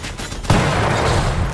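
A self-defense turret firing in the video game One Step From Eden: a sharp burst hits at once, then settles into a sustained, dense rattle of rapid shots that stays loud to the end.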